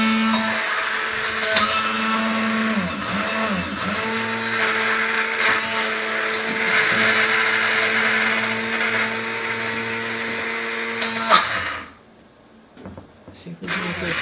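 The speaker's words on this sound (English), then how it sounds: "I'm going to take my immersion blender in the bottom of this cup" A loud, steady motorized whir of an immersion blender mixing garlic, lime and chipotles in a cup, its pitch wavering as it mixes, then cutting off abruptly near the end.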